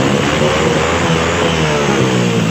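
A motorcycle engine, just repaired after breaking down inside a tunnel, runs loud and steady, revving continuously at close range without letup.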